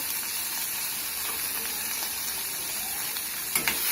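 Chana dal with salt sautés in a pan over medium heat for pirandai thuvaiyal, a steady close sizzle and hiss with a couple of brief stirring knocks near the end.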